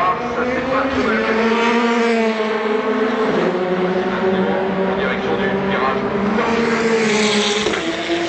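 A GT race car engine during qualifying at the 2012 Le Mans 24 Hours, its loud tonal whine rising and shifting pitch as it passes, while a commentator talks over it throughout.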